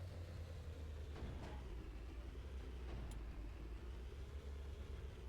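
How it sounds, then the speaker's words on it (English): A tank engine in the video game Sprocket labors uphill, a steady low, droning rumble holding at constant loudness throughout, with faint clanks over it and no talking. "I am burning my engine."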